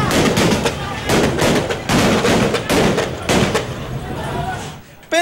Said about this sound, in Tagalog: Dito na aalingaw-ngaw ang mga putok ng baril.